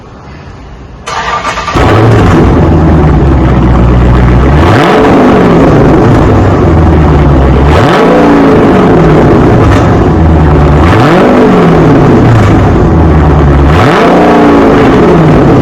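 A 2017 Dodge Challenger ScatPack with its mid muffler deleted cranks and fires up loud and close, then settles into a deep idle broken by several sharp revs that rise and fall in a steady rhythm.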